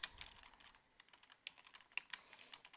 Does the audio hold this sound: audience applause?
no